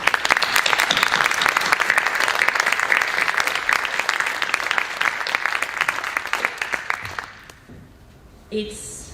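Conference audience at a closing plenary breaking into sustained, loud applause with a dense roll of clapping that fades out near the end, followed by a brief bit of talk.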